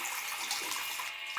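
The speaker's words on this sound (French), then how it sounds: "Je vais vous montrer la pression qu'on a d'eau chaude." Hot water running from a bathroom tap whose heating boiler is faulty, a steady hissing rush of moderate pressure that is brief and unbroken, with no speech.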